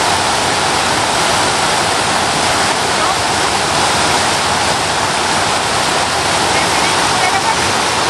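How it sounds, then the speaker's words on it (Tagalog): Flowing water rushes steadily and loudly at Bokwang, where a child splashes and plays in it; the splashing merges into the continuous broadband wash of the current for the whole stretch, with no distinct voices standing out. "Naglalaro ng tubig."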